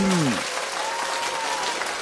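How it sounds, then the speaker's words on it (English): Audience clapping at a boxing talk show fills the background, steady and dense throughout, while a voice is heard over it at the start. "Clap it up."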